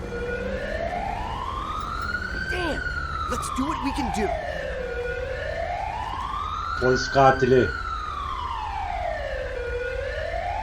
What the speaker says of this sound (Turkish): Bir ambulans daha, daha yeni geliyor